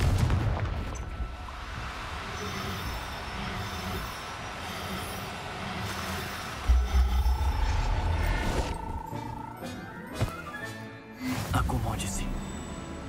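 Confringo blasting spells go off in Hogwarts Legacy as a string of loud booming explosions with rumbling low-end tails. Sharper bursts come near the middle and end, and a voice speaks over the din.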